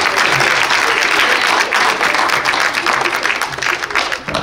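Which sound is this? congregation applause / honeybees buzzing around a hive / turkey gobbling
congregation applause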